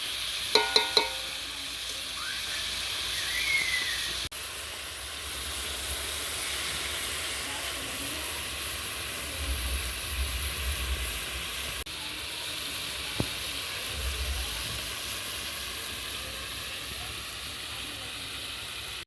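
Cabbage, boiled earlier and still wet, being sautéed and stirred in a pan while its water cooks off: a steady soft sizzle and hiss runs throughout, with a few faint scrapes from stirring.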